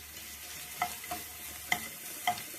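Onions sizzle softly in hot oil in a pan while browning for chicken momos, with a steady frying hiss and a few light scrapes or stirs.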